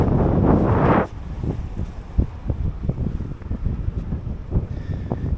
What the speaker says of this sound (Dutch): want er is veel wind.